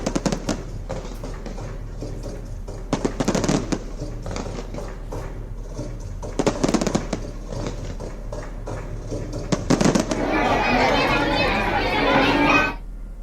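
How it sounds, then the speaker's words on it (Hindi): Diwali firecrackers and fireworks going off in bursts of crackling bangs amid crowd noise and children's voices, building to a dense, continuous crackle near the end. "आसमान में वो पटाखे, वो लाइटिंग, बेहद खूबसूरत तस्वीर"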